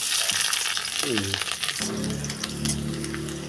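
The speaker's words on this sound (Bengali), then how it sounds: "এখন কড়াইয়ে তেল গরম করে এর মধ্যে একে একে সবগুলো উপকরণ দিয়ে দিতে হবে।" Spice ingredients sizzle as they go into hot oil in a karai for red amaranth greens (lal shak) bhaji, a loud crackling fry with a few clinks and stirring sounds up close.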